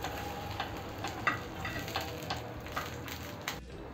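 Alu vadi pieces pan-fry in a hot pan, giving a steady crackling sizzle with scattered sharp pops and ticks throughout.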